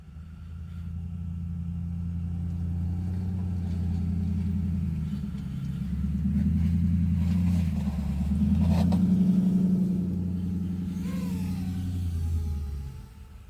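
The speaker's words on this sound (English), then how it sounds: "Now here this truck started up." A truck engine runs steadily outdoors in a snowy parking lot, a low droning rumble that swells slightly as it revs, held near and continuous with no talk.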